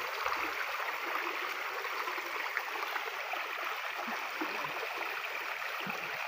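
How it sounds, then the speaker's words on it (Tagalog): A strong river current rushes past, a continuous broadband roar of flowing water that stays fairly even and close throughout, with no talking. "Hirap, lakas ng agos."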